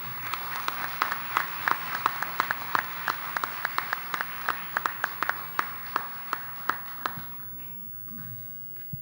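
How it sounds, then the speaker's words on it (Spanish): A conference audience applauds steadily for several seconds, the clapping thinning into a few scattered sharp claps before fading out. "Le damos un fuerte aplauso de bienvenida a la urbe."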